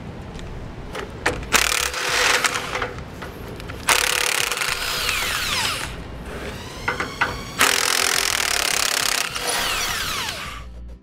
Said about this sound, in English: So if these nuts won't come off, you can also just cut your U-bolts on each side.